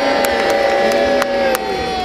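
A live crowd at an open-air Battle of Bannockburn show cheers and shouts for a knight, the noise loud and sustained, with a few sharp whistles cutting through.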